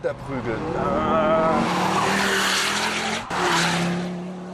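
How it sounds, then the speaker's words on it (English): A Ford Focus RS on a track, its engine note rising loudly then easing as the car slows for a curve, followed by a renewed roar with a faint turbo whistle. "the turbos whisper when you ease up going into a curve, and the roar when you step on it again"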